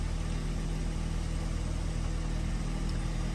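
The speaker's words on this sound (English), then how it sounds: "hence why we started up on the petrol engine" A BMW 330e M Sport petrol engine idling after start-up, a low steady hum with an even throbbing pulse, close and constant with no talk.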